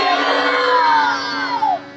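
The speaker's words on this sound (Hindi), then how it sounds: "जोर से चिल्लाओ हालेलुया।" A church congregation shouts hallelujah together during a sermon, a loud, sustained crowd cry of many voices that swells and then trails off.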